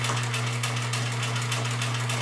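A sewing machine runs steadily while stitching a curved 1/4 inch seam on a fabric face mask, giving a close, continuous motor hum with rapid needle clatter and no talk.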